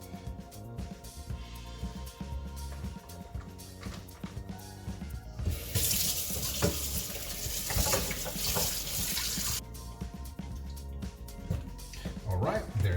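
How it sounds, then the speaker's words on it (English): Gutted trout rinsed under a running kitchen tap, with a steady broadband rush of flowing water splashing over the fish for several seconds in the middle, quieter handling and sink noises before and after. "We've washed the fish to get rid of the blood and everything else"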